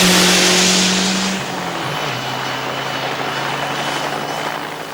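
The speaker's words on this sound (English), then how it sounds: "We're going to run the cars in pairs on a knockout basis, and the first two on the line are the BMW and the" BMW and Audi cars launch side by side off the line in a timed knockout sprint race, a loud revving engine roar that drops in pitch as they pull away and fades into a sustained distant drone.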